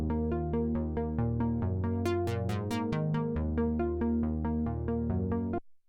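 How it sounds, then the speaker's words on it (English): A plucky synth layer built from saw and square waves, with a filter envelope shaping each note, plays a steady rhythmic pattern of short bright notes over a sustained low line, loud and alone before cutting off near the end. "It's basically a saw wave and a square wave."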